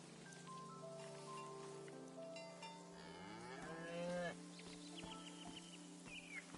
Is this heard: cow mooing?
yes